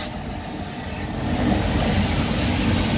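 The Delhi Pathankot Express rolls past, a broad rushing rumble with clattering wheels that grows louder and closer across the few seconds, with no voices.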